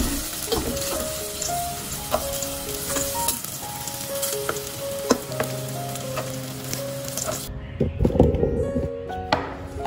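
Rice vermicelli frying in hot oil in a pan for a simple vegetarian dry noodle dish, a steady dense sizzle with crackles and occasional utensil clinks and scrapes, loudest near the end.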